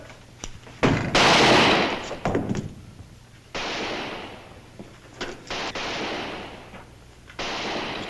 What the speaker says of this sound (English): Will you stop shooting?